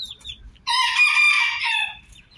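A rooster crows once, loud and close, a long strained call held for over a second, with low clucking and shuffling of chickens and chicks before and after.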